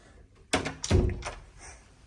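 An apartment storage door swinging shut, giving a close, solid thunk followed by a softer second knock and a brief rattle in a quiet room.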